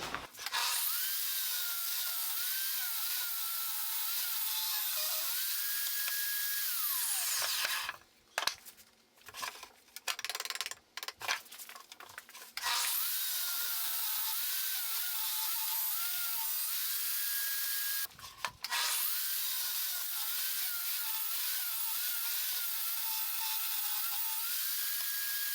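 A power saw trims the edge of a hardwood board in a small woodworking shop, cutting steadily and loudly for several seconds, falling silent with brief clatter and handling noises, then starting a second long pass on the other side.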